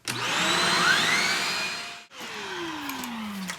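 A Shark Rocket vacuum cleaner with a newly replaced lower hose whines loudly and steadily, cuts out for a moment, then starts again with a falling tone that sweeps down.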